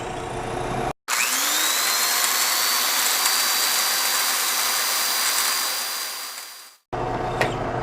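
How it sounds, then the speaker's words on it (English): A drill with a Forstner bit bores a small hole into wood, a loud steady whirring grind that runs for about six seconds before winding down, with brief quieter handling sounds before and after. "I have a clean hole on the backside because I drilled into the wood so that it doesn't splinter it out"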